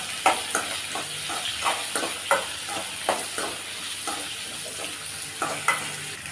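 A quarter cup of peanuts is sautéed in oil for a brinjal masala gravy, giving a constant soft sizzle. Regular spoon scrapes and clacks against the pan repeat roughly every half second, with no talking.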